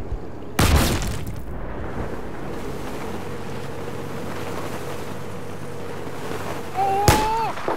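A C4 charge detonated in a video game, a sudden loud broadband blast that decays into a long rumbling wash of wind-like noise, followed near the end by a second burst with a rising whistle.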